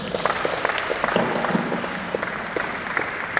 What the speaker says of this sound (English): A round of applause once again for our very,